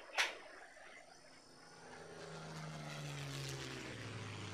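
A propeller airplane in Shadow of the Tomb Raider drones steadily over the Peruvian Amazon, its engine hum swelling gradually after a sharp opening thump.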